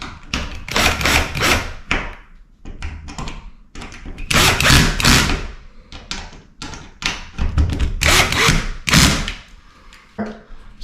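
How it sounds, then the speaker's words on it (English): Screws being driven and tightened to mount a Honeywell Home T5 Wi-Fi smart thermostat on a wall, giving repeated bursts of close scraping, tapping and knocking with short pauses between them. "And go ahead and tighten down the screws."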